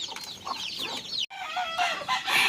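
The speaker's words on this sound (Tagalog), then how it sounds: "Ito po yung tandang na may motherly instinct." Chickens cluck and chatter close by, with a rooster's calls and busy overlapping fowl noises throughout.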